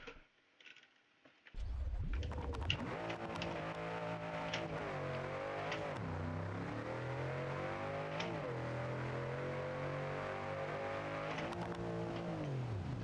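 Car in the BeamNG.drive video game launching down a drag strip from a quiet start, the engine roaring up through several gear changes with pitch sweeps rising and dropping, loud and close.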